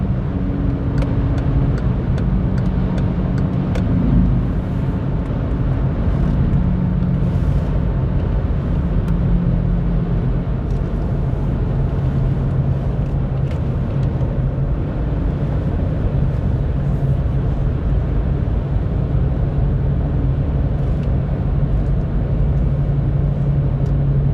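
A Volkswagen Polo 1.2 TDI Bluemotion running on Shell V-Power diesel, accelerating at night on the Autobahn, gives a steady diesel drone and road rumble from inside the cabin that stays loud and even throughout.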